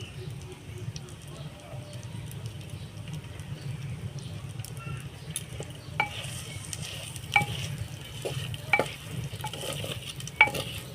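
Onion frying with a little salt in a pan for handi chicken, a low steady sizzle broken by repeated crisp spatula taps and scrapes that grow more frequent in the second half.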